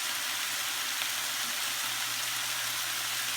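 Chorizo with chipotle pepper sizzles in a pan over high heat on the stove, a constant close, dense crackle and hiss with no talk.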